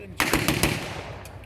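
Rapid bursts of blank gunfire ring out at a WW2 battle reenactment at Quex Park, as British forces give covering fire. The shots come in a quick, sharp cluster, loud against the open-air background.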